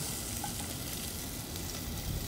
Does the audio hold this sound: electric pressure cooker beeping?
no